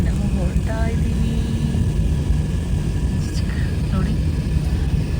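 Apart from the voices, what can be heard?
airplane engine during takeoff and climb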